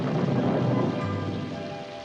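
Heavy rain pours steadily while a low thunder rumble rolls through a television sound effect, dense and fairly loud with no voices.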